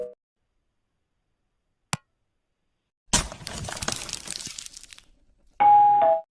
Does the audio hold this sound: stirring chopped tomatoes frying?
no